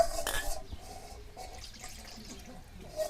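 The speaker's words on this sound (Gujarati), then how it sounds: "પહેલાં તો પાણી નાખી દઈશું." Water is poured into flour for roti dough in a home kitchen, a soft splash and then quiet trickling, faint and close, with no talk.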